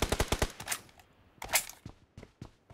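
Gunshots in PUBG: rapid bursts of sharp automatic fire, a quick string of close cracks, then a pause and more scattered shots, loud and punchy.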